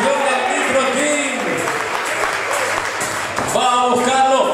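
A crowd cheers and applauds at a Uruguayan professional wrestling match, a continuous roar of ovation beneath a commentator's voice talking throughout.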